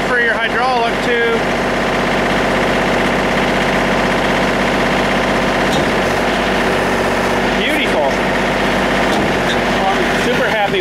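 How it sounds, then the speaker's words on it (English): A tractor engine runs at raised revs to drive its hydraulics: a steady, loud, continuous mechanical drone with no breaks, recorded close by in a farm workshop setting during trailer building. "they have the tractor running a bit faster for your hydraulic too"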